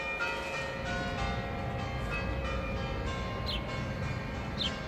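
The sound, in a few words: church bells ringing in Jerusalem's Old City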